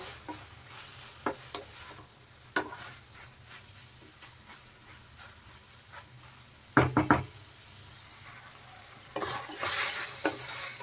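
Spring roll filling masala is stirred in a pan, with quiet intermittent scrapes and knocks over a low sizzle. A cluster of louder clatters comes near the middle, and a burst of brighter frying noise comes at the end.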